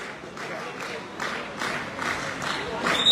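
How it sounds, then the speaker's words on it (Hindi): Audience clapping and cheering at an under-18 boys' kabaddi match, a steady wash of claps from a crowd that swells toward the end, with a voice speaking over it. "सभी लोग तालियां बजाते रहे"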